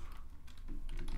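Quick keystrokes on a computer keyboard while configuring a virtual machine hostname, a short, quiet run of light clicking with no talking.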